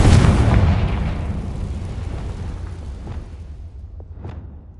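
A Confringo fire explosion spell in Hogwarts Legacy goes off as a loud, deep boom, then a long rumbling decay that fades over several seconds with a few faint pops near the end.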